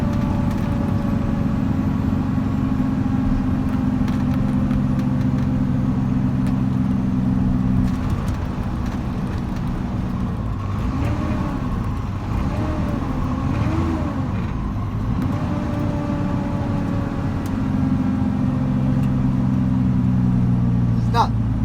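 A 2013 Kenworth T370 wrecker with a 350 HP Paccar PX9 engine drones steadily from inside the cab, its exhaust brake adding a deep, pulsing exhaust note partway through, with people talking quietly over it.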